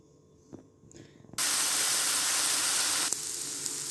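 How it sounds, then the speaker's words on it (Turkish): After a few soft clinks, a loud, sudden sizzling hiss kicks in and holds steadily as mushrooms fry in a hot pan. "Suyunu çekene kadar gavcar mantarlarını pişiriyorum."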